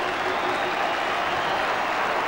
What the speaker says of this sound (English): Huge cheer for an excellent catch for the keeper.